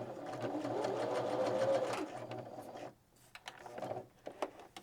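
A Viking 118 sewing machine stitches a wide, long zigzag in a fast, steady whir for about three seconds, then stops, leaving a few soft clicks and knocks of handling.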